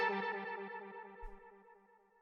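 A techno second lead synth plays a sustained, harmonically rich line with distortion, chorus and echo, loud at first and gradually fading over about two seconds, with a brief low thump near the middle.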